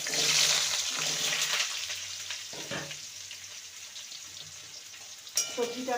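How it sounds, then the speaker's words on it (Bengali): Vegetables fry in oil over mustard-seed and dried red chilli tempering for Malabar spinach chachchari, a close steady sizzle that gradually softens, with occasional stirring scrapes and a brief utensil clatter near the end. "সবজিটাকে ভালো করে দু মিনিট ভেজে দেবো"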